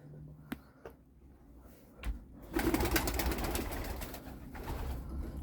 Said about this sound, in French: Un petit pigeon.